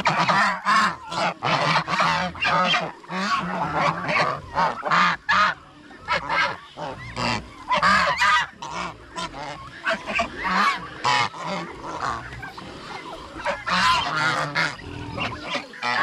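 Large geese on a farm honk loudly and continuously, many overlapping nasal calls in a dense, raucous chorus close by, with barely a pause throughout.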